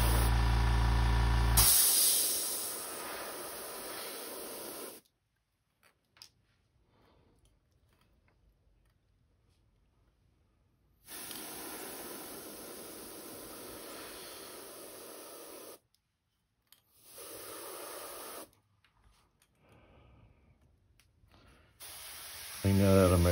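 An airbrush is sprayed out during cleaning, with near, loud bursts of steady hissing air broken by silent pauses.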